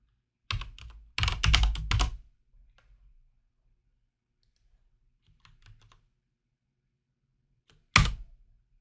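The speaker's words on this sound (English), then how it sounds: "So I'll just type in interq." Clicking on a computer keyboard, a couple of short bursts of close, crisp keystrokes, then quiet with faint taps and one final sharp press.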